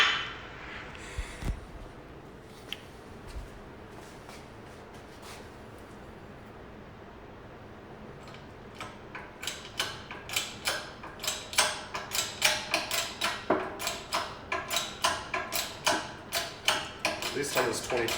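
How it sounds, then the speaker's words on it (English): A 20-ton hydraulic shop press pressing a rear hub bearing out with a 13mm socket on a Toyota SW20 MR2, heard as a steady run of rhythmic pump clicks and metallic ticks that grows louder. "I'm just using a 13mm socket to press it out"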